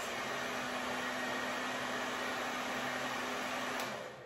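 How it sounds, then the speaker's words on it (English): A handheld hair dryer fitted with a diffuser attachment blows in a steady, loud whoosh with a low hum, running continuously before beginning to tail off at the very end. "turn the hair dryer off, and then release the hair"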